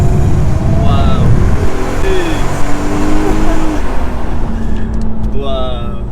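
An ABT-tuned Audi A3 3.2 V6 with a DSG gearbox accelerates hard. Its loud, close engine note climbs steadily in pitch through the run, with a brief dip and fresh rise near the end.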